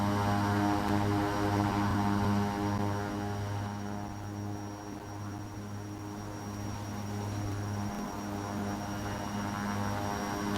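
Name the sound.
Dreamfoil Embraer 110 Bandeirante propeller plane engine from X-Plane 11 video game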